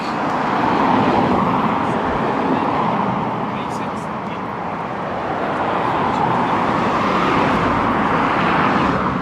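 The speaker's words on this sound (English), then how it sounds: "this is the last bit of traffic we will see for a long time" Steady road traffic rushes past near a roadside footpath by the River Ogmore, a continuous broadband roar of cars that swells and fades slightly as vehicles pass close by.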